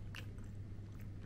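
Buttered toast, softened and no longer crunchy, being chewed up close: a quiet bite near the start, then soft, faint mastication for about a second.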